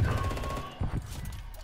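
Automatic weapon fire in a competitive search-and-destroy shooter match, a fast rattling burst up close that continues through the whole moment with a sharper shot cluster partway.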